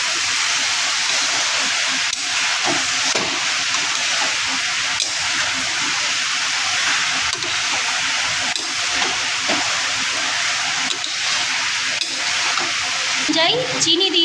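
Eel pieces dropped into hot spiced oil for a spicy eel curry, giving a loud, steady hiss of frying that holds evenly throughout, with a brief clatter near the end.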